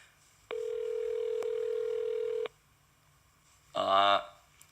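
A steady electronic telephone dialing tone holds for about two seconds while calling a 7-Eleven, followed by silence and then a brief burst of a voice.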